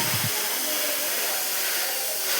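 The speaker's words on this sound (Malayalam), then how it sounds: "ഇനി നമുക്കിതൊരു മിക്സിയുടെ ജാറിലേക്കിട്ട് അരച്ചെടുക്കാം" An electric mixer grinder jar whirs steadily and loudly as it grinds chopped shallots and garlic, a continuous high motor drone after a brief low thump at the start.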